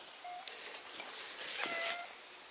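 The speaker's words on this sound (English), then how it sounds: "Meow, says the cat." A cat outdoors meows a couple of times, short and moderately loud, over a bright hissing background of wind and ambient noise.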